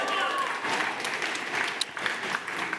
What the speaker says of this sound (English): Nice round of applause for Alyssa, please